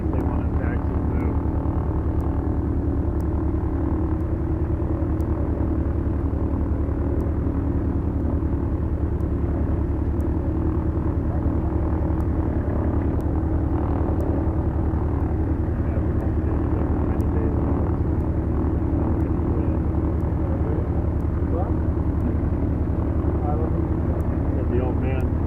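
Multi-engine airplane taxiing, a steady, loud, droning propeller and engine rumble that holds constant throughout, with a pilot talking over it.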